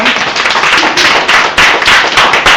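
An audience claps loudly and close at the end of a talk about an erupting volcano in Ecuador, a dense continuous round of applause with irregular individual claps standing out.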